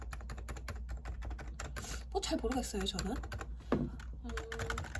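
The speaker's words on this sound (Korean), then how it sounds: "이게 무접점 키보드, 무접점 방식의 키보드라고 하고 뭐 초콜릿 부러뜨리는 소리가 난다는데" Rapid typing on a Realforce Topre electrostatic capacitive keyboard, a dense run of soft, muted key clicks up close, with a person briefly speaking partway through.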